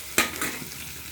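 Onion frying in a pan for a radish vegetable dish, a brief close sizzle opening with a sharp stir or scrape, then a couple of softer stirring touches fading out.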